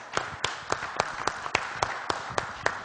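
Audience clapping at a civic event in São José, Brazil, in about ten evenly spaced, distinct claps that sound more like a steady rhythmic beat than a crowd's burst of applause.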